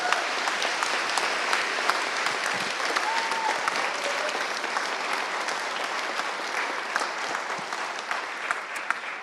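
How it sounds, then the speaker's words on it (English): Sustained applause from a conference audience at a security event's closing ceremony, honouring rookie speakers; dense, steady clapping fills the room for several seconds at an even level without speech. "we should give the rookies a round of applause for being awesome"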